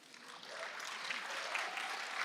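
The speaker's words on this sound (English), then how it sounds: "we can clap for Qadr al-Yatim" Scattered audience clapping at a political talk, faint and distant, swelling slightly as more hands join, with no voices on top.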